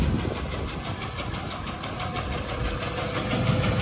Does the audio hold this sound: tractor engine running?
yes